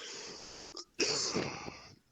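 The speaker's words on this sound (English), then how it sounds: "sneezed when you answered" A single close, sharp sneeze from a player at a tabletop role-playing game session, a burst of breathy noise after a short pause, with a low room murmur before it.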